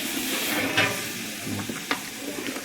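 Dal tipped into a pan of sizzling tempering with tomatoes and chillies gives a brief, steady frying hiss broken by a few sharp clicks and spatters.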